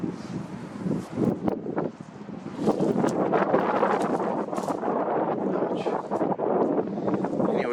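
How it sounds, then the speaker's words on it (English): Wind gusts through a Colorado canyon and buffets the microphone, producing loud, rough rumbling that swells and eases in uneven bursts, with no voices. "Anyways, it's getting windy."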